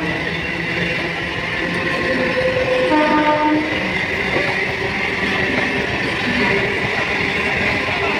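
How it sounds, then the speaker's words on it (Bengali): A train rumbles through Sodepur railway station with a continuous rolling clatter, and a horn sounds briefly near the middle. No one speaks. "এই মুহূর্তে আমি দাঁড়িয়ে রয়েছি হচ্ছে সোদপুর স্টেশন"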